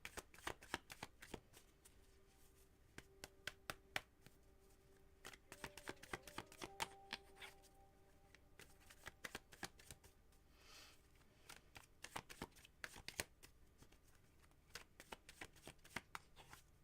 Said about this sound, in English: These are already very well shuffled, just so you know.